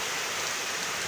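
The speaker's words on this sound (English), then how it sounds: "it's raining here" Steady rain falling on a rainy morning, a dense, even patter on surfaces that holds at a constant level, soft and close, with no voices.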